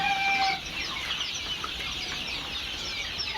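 Fayoumi chickens cluck on a poultry farm, with a short louder burst at the start and then a steady mix of soft clucks and farmyard rustle at moderate distance.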